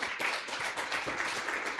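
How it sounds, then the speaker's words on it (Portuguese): A church congregation applauds at a worship service, a dense, even wash of many hands clapping at a moderate distance, brief and unbroken. "Podem aplaudir ao nosso rei."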